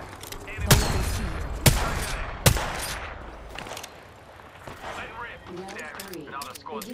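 Gunfire in Apex Legends: three sharp, loud shots spaced about a second apart, then scattered quieter shots and clatter, with voices talking over the later part.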